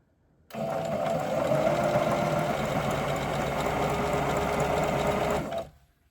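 A sewing machine runs in one steady, close burst of about five seconds while stitching the hem of a pair of leggings being shortened, starting and stopping abruptly.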